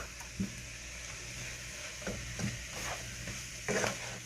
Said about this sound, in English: Sauteed cabbage, y'all.